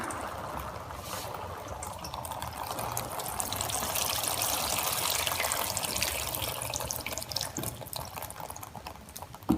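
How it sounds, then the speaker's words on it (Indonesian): Continuous rainwater trickling and dripping, a steady close splashing flow that holds level throughout with no voices. "Ada hujan datang"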